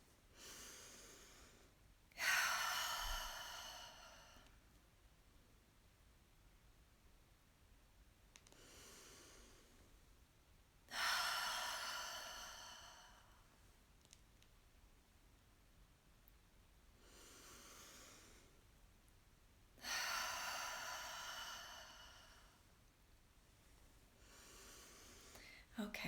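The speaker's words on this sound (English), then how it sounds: "So let's do just 3 breaths together, okay?" Three slow, deep breaths during a calming breathing exercise, each a soft airy inhale or exhale rising and fading about nine seconds apart, close to the microphone with quiet pauses between.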